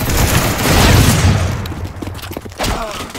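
Gunfire in CS:GO WarCraft, a modded online shooter game: a dense burst of loud shots and booming impacts fills the first half, then thinner scattered shots and thuds follow, with some voice chatter.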